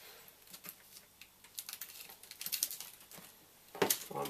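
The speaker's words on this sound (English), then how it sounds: "Bit more tape." Adhesive tape being pulled from the roll and pressed down, a series of short crackling rips and dabs close by, rising toward a louder tearing burst near the end.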